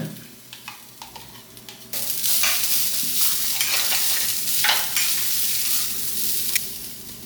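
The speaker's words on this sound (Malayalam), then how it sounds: "ഇത് തേങ്ങ വറുത്തരക്കുകയാണ് അപ്പോൾ അതുകൊണ്ട് അത് വറക്കണം ചട്ടിയിലിട്ടിട്ട്" Grated coconut rasps and hisses in a pan with steady scraping stirs, the sizzle jumping louder after a quieter start.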